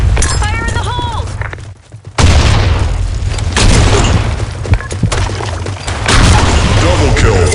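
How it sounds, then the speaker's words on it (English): A grenade blast in the shooter game Blackshot on the Sand Storm map: a heavy, booming explosion bursts in after a short lull, followed by ongoing thuds and gunfire-like cracks, with in-game voice callouts. "Fire in the hole! Grenade!"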